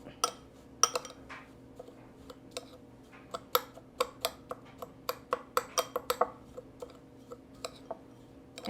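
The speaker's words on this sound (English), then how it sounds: "Now we just mix all that up." Spoon clinking against a bowl while stirring buffalo chicken ranch dip ingredients with chives and salt, a string of sharp taps and scrapes coming closer together toward the end, close and fairly quiet.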